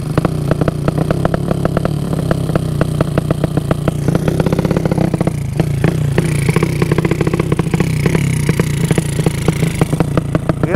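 A motorcycle engine modified to sound like a helicopter runs loud and close, with a rapid, steady chopping pulse throughout and rising revs in the second half.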